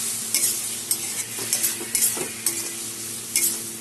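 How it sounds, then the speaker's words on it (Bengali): Taro is stir-fried in a pan with spices and a little water, with repeated rhythmic scrapes of a spoon against the pan over a constant close sizzle. "সব একসাথে কষিয়ে নেব।"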